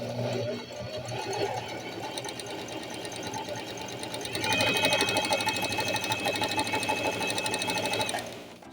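A domestic sewing machine runs a zigzag stitch with an overlock presser foot, giving a steady whirring, rapid mechanical rattle that grows louder and faster midway, then stops near the end.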